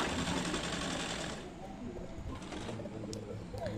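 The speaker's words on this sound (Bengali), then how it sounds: "একটা কাপড়ের টুকরোকে ফোল্ড করে সেলাই করে কোমর পট্টিটা বানিয়ে নেব" A sewing machine stitches a folded strip of cloth into a waistband for a small deity garment. It runs in a steady, loud, rapid whir for about the first 1.5 seconds, then fades into quieter room noise.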